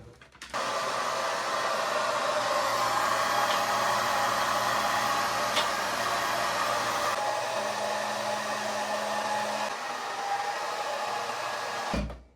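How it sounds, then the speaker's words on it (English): A hair dryer fitted with a diffuser blows on curly hair, giving a loud, steady close-up whoosh that runs almost unbroken for about eleven seconds, dips briefly partway through, then cuts off abruptly at the end. "This diffuser's making my headache worse."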